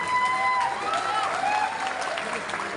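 A crowd at a political rally in Mumbra claps in a sustained wash of applause, heard from a distance with faint voices mixed in.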